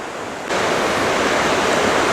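Creek water rushing through a narrow rock gorge at Seven Tubs Nature Area near Wilkes-Barre, Pennsylvania, a steady broadband roar that jumps louder after a brief quieter start and then holds constant, with no voices.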